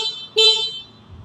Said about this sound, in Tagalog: Okay, busina check natin.